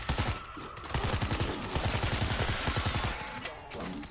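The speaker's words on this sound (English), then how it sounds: "I didn't mean to shoot the other guy" Rapid automatic gunfire in the zombie shooter World War Z, a dense fusillade of shots crackling steadily for most of the stretch, fairly loud, with a brief lull near the end.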